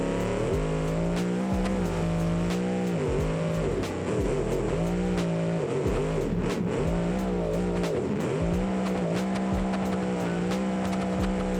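An upgraded car in the BeamNG driving game makes a drag-strip launch in second gear, with its engine roaring steadily at high revs and the pitch rising and dipping through gear changes, loud and continuous.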